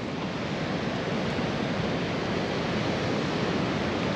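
A steady, broad wash of surf fills the air, constant and enveloping without distinct breaks, with no voices.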